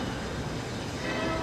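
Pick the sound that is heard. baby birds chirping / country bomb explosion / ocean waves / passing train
passing train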